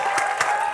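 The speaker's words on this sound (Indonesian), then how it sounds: "Tepuk tangan sekali lagi buat Mas Aziz." A studio audience breaks into a short, dense burst of applause for a guest on a comedy talk show, with steady clapping filling the moment.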